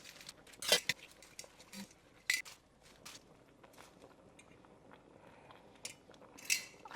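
Cabbage collards stirred in a cooking pot, with scattered metallic scrapes and clanks of a utensil against the pot, several sharp knocks among quieter rustling, close and fairly faint.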